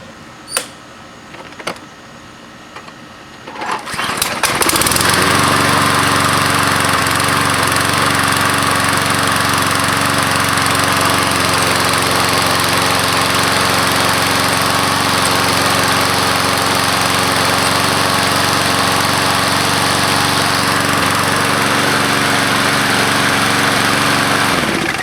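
Old, junky lawn mower engine with a bolt missing from its exhaust, first with a few pull-cord tugs and thumps, then roaring to life and running loud and steady at a constant idle.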